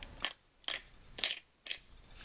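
Copper bullion coins drop into a container in four separate bursts of bright metallic clattering, each a short jingle with pauses between, rising in pitch each time, close by.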